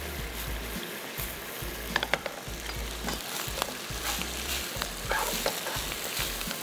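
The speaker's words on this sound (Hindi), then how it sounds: "अब राइस को करना है मिक्स" Rice for mushroom rice is stirred and tossed in a hot pan, a close steady sizzle with repeated scraping and clacking of a spoon against the metal, alongside a low rhythmic mechanical hum.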